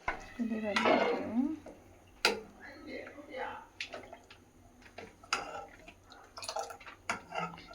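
A spoon scrapes and clanks against a pot as cooked food is mixed with homemade spice powder, giving sharp metallic knocks and scrapes at uneven intervals, with a voice briefly heard at the start.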